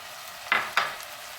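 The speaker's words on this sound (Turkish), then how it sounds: "Şehriyelerle de 1-2 dakika böyle karıştıralım, kavuralım." Vermicelli being stirred and toasted in oil with vegetables for a soup, two short scraping stir strokes over a faint steady sizzle, close and alone.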